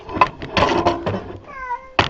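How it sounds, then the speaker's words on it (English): A cat meows from inside a forced-air heating vent, several short, close, echoing cries in quick succession with a few faint knocks. "There's a cat in the vent."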